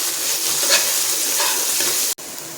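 Chopped onion, tomato and capsicum sauté in a pan with a steady, close sizzle and faint stirring, cut by a brief dropout near the end.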